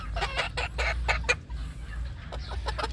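Several roosters cluck in short, repeated bursts close by, with a steady low background hum underneath.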